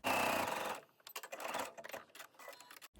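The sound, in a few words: serger overlocking blouse side seams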